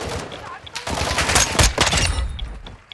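Several bursts of close gunfire crack out in a Call of Duty DMZ match at Al-Mazrah, clustering into a rapid volley mid-clip amid game noise and faint voices.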